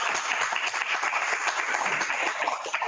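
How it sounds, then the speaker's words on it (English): Audience applause at a water innovation celebration event, a steady patter of many hands clapping at moderate volume for about three seconds. "Let's give him a round of applause"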